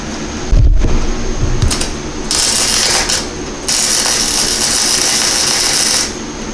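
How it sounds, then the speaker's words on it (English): Welding on a rat rod CRF50 pit bike frame gives a loud, steady crackling buzz that comes in several bursts with brief pauses between them, and no one speaks. "Get it welded on here."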